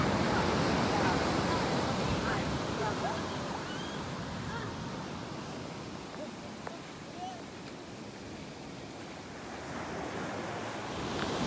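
Sea surf rolling at Watu Parumu beach, a continuous broad wash of breaking waves with wind rushing across the microphone, steady and loud throughout with no distinct voices.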